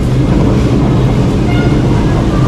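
Steady, loud low rumble of an LRT light rail train rolling along near Baclaran, with wind buffeting the microphone throughout and no clear speech.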